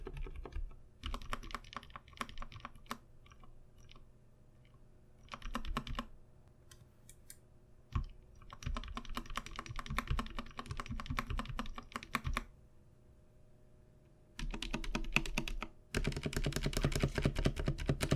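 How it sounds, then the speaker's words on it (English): Typing on a Vissles V84 mechanical keyboard with modded, lubed stabilizers gives close, crisp clacking in quick bursts separated by short silences, ending in a run of heavier, denser key strikes. "The spacebar doesn't sound how good I want it to sound, honestly."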